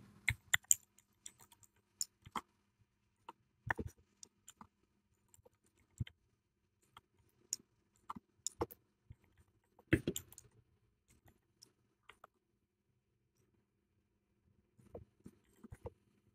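Code being typed on a computer keyboard: faint, sparse key clicks in short irregular bursts separated by long quiet pauses.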